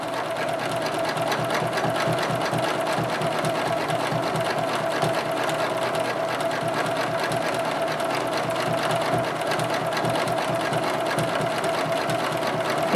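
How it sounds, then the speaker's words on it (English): A sewing machine stitches grid lines across a quilt, running steadily and loudly without a break, its fast even needle rhythm holding the same pace throughout with no talking. "Stitching out our grid line, filling in the diamond above now."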